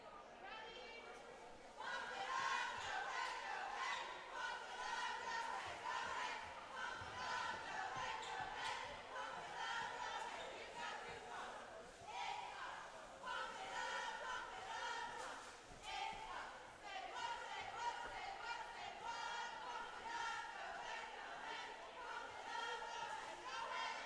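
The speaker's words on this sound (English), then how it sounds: "as the cheerleaders cheer" Cheerleaders cheer at a girls' high school basketball game, Lower Cape May versus Middle Township, a steady loud chorus of chanting voices with rhythmic accents and a crowd murmur underneath, carrying on for the whole stretch.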